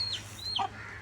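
Chickens on a farm give a couple of short, close clucks and squawks over a low steady hum, with no voices.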